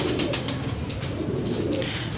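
Pigeons coo softly and repeatedly, low rolling calls close by with a steady background hum and no voices.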